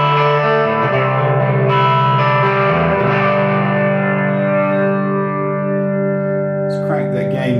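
A Squier Contemporary Telecaster HH electric guitar played through a Vox amp on its tweed setting, sustained ringing distorted chords with reverb that decay slowly, then a brief burst of strumming near the end.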